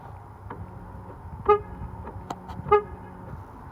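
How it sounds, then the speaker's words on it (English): A car horn gives two short, clear chirps as the car is locked, spaced about a second apart over faint outdoor background. "There's your car locked up."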